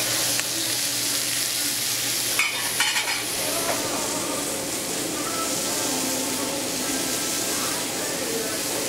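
Onions, carrots and diced celery sizzle in a pan with leftover meat grease, a loud, even hiss running throughout, with a brief clatter early on and a voice talking over it.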